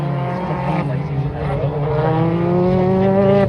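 Race car engines rumble and rise together at the start of a qualifying race, a loud, steady, climbing drone with many harmonics that thickens over a few seconds.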